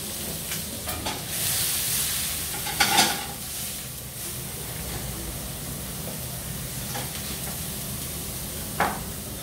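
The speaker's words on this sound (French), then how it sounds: "mon caramel il va se faire tranquillement" Caramel of sugar and vinegar bubbling and sizzling softly in a pan, a steady low hiss with a few brief clinks and stirring sounds.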